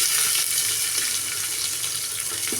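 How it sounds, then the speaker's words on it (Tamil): Mustard seeds and small and large onions frying in hot oil for drumstick sambar, a loud, steady close-up sizzle with faint stirring and occasional pops, and no voices. "எண்ணெய் ஊற்றி கடுகு வெங்காயம் போட்டாச்சு"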